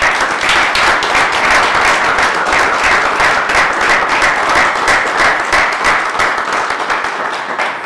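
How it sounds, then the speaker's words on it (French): Warm, steady audience applause fills a civic honoring ceremony held by the town of Caudry for Samuel Arpas: a loud, dense wash of many hands clapping without pause, tapering slightly at the very end. "je vous propose de l'applaudir chaleureusement"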